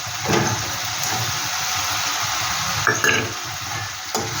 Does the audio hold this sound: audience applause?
no